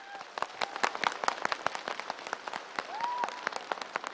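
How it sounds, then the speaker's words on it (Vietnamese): Audience at a televised Vietnamese singing competition final applauds a stage performance, scattered crisp claps at moderate distance over a quiet hall, with faint background voices and tones. "một tràng pháo tay nồng nhiệt cho tiết mục vừa rồi trên sân khấu"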